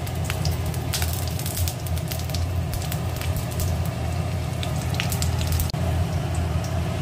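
Green chillies and panch phoron spices sizzling in hot oil, a steady loud crackling hiss with scattered sharp pops, continuous throughout and heard alone without talk.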